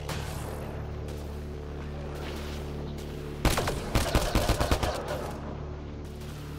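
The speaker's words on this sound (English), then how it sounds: "I got like a machine gun type deal here." Rapid machine gun fire erupts partway through a Mass Effect: Andromeda combat scene, a loud burst of closely spaced shots lasting about a second and a half over a steady low hum, then fading back to the hum.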